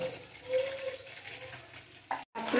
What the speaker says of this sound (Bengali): নিয়েছি গোটা গরম মশলা, তেজপাতা।